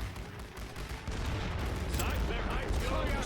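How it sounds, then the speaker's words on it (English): Rifle fire in the video game The Great War: Western Front, a crackle of scattered shots and distant booms building into a denser volley, with a voice talking quietly underneath. "Let's let our rifle fire do its work."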